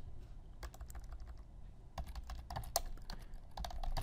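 Quiet typing on a computer keyboard, irregular clusters of key clicks building in density toward the end, close and alone with no voices.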